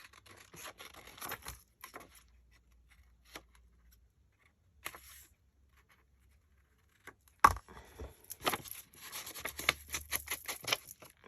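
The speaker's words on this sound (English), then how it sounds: "I'm going to wiggle my scissors around to get kind of a rougher edge." Scissors snip through paper while a tag booklet is trimmed, with a rougher wiggled edge; a few quick, close crisp cuts early on, then a denser run of rustling snips and paper handling toward the end, no talking.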